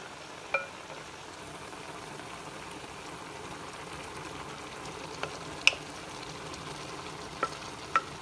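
Sausage sizzling and frying in a one-pan dish of lemony orecchiette pasta and broccolini, a steady close crackle with a few sharp pops and spatters and no talk.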